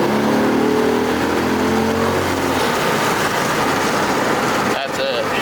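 A Porsche 911 with a swapped engine accelerates hard while being driven, its loud engine note climbing over steady road and wind roar, with voices talking inside the car.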